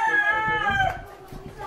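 A rooster crows once among chickens, a near, clear cock-a-doodle-doo followed by softer clucking.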